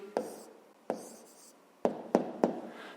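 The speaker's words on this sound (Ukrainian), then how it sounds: "Записуємо тоді відповідь." A pen writes an answer by hand on paper for a fifth-grade maths exercise, five short separate scratching strokes close up, with quiet between them.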